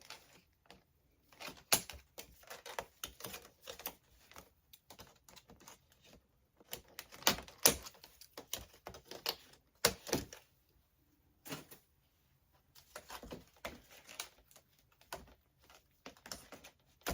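Zip ties being tightened and cut while assembling a craft organizer, a series of sharp ratcheting clicks and snips in irregular bursts with quiet gaps between, close and fairly loud.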